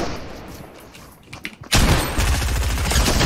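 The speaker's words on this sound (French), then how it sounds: "Et dans mon dos ça me tire dessus." Gunfire in a video game, with a quieter stretch and a few scattered reports followed by a sudden dense burst of loud, rapid shooting that continues to the end.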